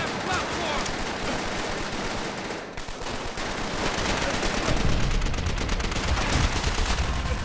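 Dense, continuous gunfire from a Call of Duty: World at War firefight, rapid automatic bursts blending with single shots at steady loudness, with a brief lull before the barrage resumes and intensifies.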